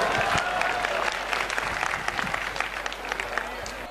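Loud audience applause at a Sanatan Dharma religious padyatra gathering, dense sustained clapping from a large crowd with scattered voices underneath, continuing steadily throughout.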